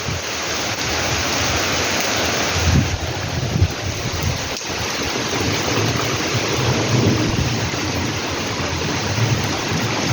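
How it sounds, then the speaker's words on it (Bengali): Steady heavy downpour roars continuously, with low rumbles of thunder rolling beneath it; no voices. "মুসলধারে বৃষ্টি চলছে"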